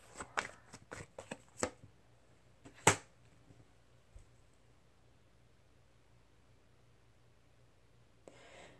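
Tarot cards are shuffled in quick riffling bursts, then a single card snaps out as it is drawn, followed by a long quiet stretch and a faint final rustle.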